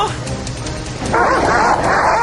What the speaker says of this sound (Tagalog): Daming mga aso!